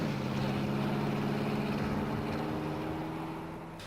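A vehicle with a freshly rebuilt TransGo 4L60E-HD2 transmission drives on a road test, its engine and drivetrain giving a steady hum with a low tone, fading slightly toward the end.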